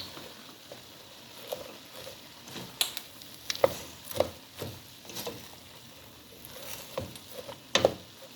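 A spoon stirring seasoning into cabbage in a cooking pot, giving soft scattered clicks and scrapes with faint sizzling underneath, quiet and close.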